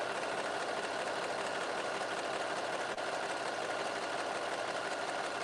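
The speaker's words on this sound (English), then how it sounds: "I'm just cutting just a sliver off while the serger is going" A serger runs continuously while cutting fabric for a rolled hem, a steady fast mechanical whir with a faint rhythmic chatter, close and alone.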